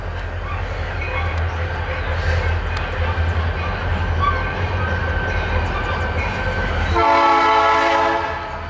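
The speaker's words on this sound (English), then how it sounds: "Wait for the train." Train engines rumble steadily past at close range, loud and continuous, then a strong multi-tone horn blasts near the end for over a second before the roar resumes.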